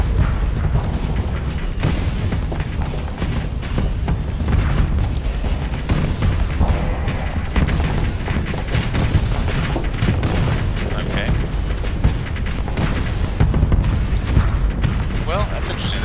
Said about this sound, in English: Assault cannon doesn't appear to be super powerful.